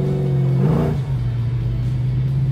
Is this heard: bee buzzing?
no